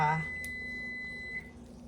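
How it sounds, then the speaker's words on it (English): A short electronic beep sounds, followed by a sustained thin high tone from a kitchen timer that fades slightly, set against quiet room noise. "that's my buzzer going."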